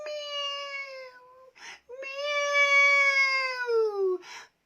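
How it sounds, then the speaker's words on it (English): Two long, drawn-out meows with a wailing, wavering pitch, loud and close, each followed by a short breathy hiss, with no talk over them; likely a person voicing a cat during a storytelling lesson. "The cat wailed loudly, and she was surprised."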